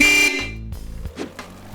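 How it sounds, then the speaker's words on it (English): A Karmann Ghia horn honks in short bursts, the first blast longest and brightest, followed by a few shorter toots with high and low tones sounding together, close and loud. "hear that unique Karmann Ghia horn honking sound"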